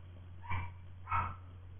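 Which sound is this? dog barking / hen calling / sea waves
dog barking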